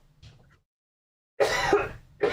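A person clears their throat and coughs, a short faint rasp followed after a pause by two louder, harsh throat-clearing bursts close to the mic.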